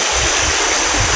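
A river running high after heavy rain gives a steady, loud, broadband rush of water that stays constant throughout, with no voices.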